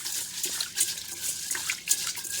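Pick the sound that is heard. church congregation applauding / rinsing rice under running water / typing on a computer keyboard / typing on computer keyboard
rinsing rice under running water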